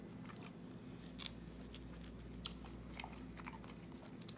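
Someone chews dried, salted walleye jerky close up, with quiet repeated crunchy bites and squishy chewing over a low steady hum, no talking.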